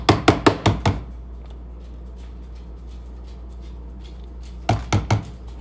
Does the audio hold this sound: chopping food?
yes